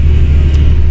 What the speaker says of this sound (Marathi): खाली आली आहे गाडी. आता कात्रज घाटात